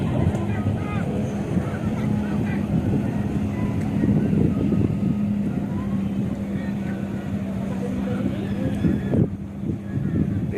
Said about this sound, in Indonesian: permainan naik speedboat